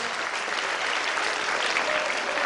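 A quiz audience claps for a competing team, a brief, even burst of crowd applause at moderate volume with no break.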